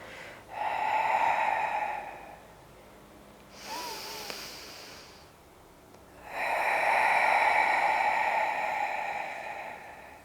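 Deep, audible breathing during a beginner pilates spine mobility exercise: a long airy inhale, a softer pause, then another long forceful breath, close and alone without speech.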